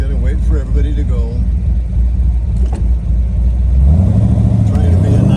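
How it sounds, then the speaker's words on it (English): A Ferrari 250 GT California replica pulls away in third gear, its engine low and rising in a strained, loud drone that swells toward the end, heard close with talk over the start. "I took off in third gear there"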